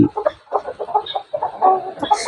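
A Thai fighting rooster at a gamecock selection farm gives a run of short, close clucks in quick irregular bursts, with a voice talking over them.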